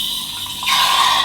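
An espresso machine's steam wand, dipped too deep in milk so its holes are blocked, gives a steady hiss that turns into a louder, harsher rush partway through, with no talking.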